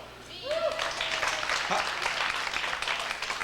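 Comedy club audience giving a short burst of applause and scattered cheers, moderately loud and steady, with a brief voice at the start.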